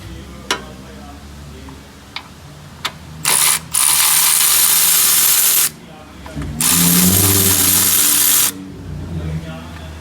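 A hand ratchet is loosening a bolt on the intercooler resonator of a 2019 Honda Accord Sport 1.5T, with a few separate clicks and then two long bursts of rapid close clicking, with faint talk in between.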